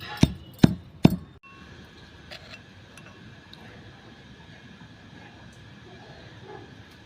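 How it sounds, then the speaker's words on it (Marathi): A pestle pounds chili in a mortar while a peanut chutney is made, three sharp, loud strikes in quick succession at the start, then a quiet stretch with only faint background noise. "आपली खलबत्त्यामध्ये इथे मिरची कुटून झालेली आहे"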